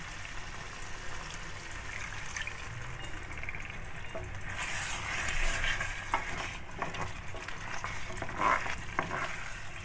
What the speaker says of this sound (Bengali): এবার আমি এর মধ্যে একটু মশলা ধোয়া জল দিয়ে দেব মশলা ধোয়া জলটা দিয়ে দিলাম